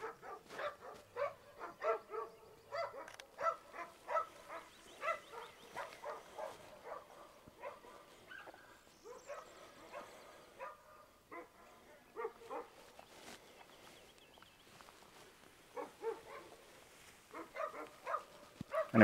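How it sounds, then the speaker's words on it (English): Several dogs bark repeatedly and excitedly, somewhere away from the listener, on a foggy rural morning by a fence, with bursts of barking and some yips continuing almost without a break. "those dogs are going crazy."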